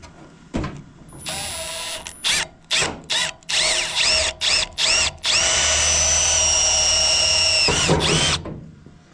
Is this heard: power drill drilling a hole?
yes